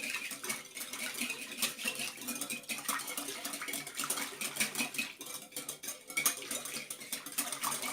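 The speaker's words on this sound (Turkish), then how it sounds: "şöyle mayamızı güzelce karıştırdık" A spoon clinks and scrapes steadily around a bowl while stirring a yeast mixture, quiet rhythmic metallic tapping with no talking.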